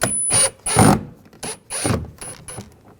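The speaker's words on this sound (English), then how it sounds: "Take that screw out. Just use a Phillips head screwdriver." A Phillips head screwdriver backs a screw out of a 2011-2018 Ram 1500 side mirror assembly, giving about six close, crisp bursts of ratcheting clicks separated by short pauses.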